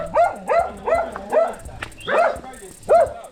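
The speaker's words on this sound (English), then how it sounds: "I think we've upset the dogs." Several dogs bark in short, close, repeated yaps at a house, loud and rhythmic, with a voice speaking briefly between the barks.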